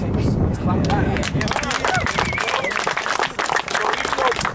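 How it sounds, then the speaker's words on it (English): An audience claps at a lacrosse awards talk, with a dense sustained patter of hands that dips briefly near the end, mixed with crowd murmur and voices. "Let's clap that out."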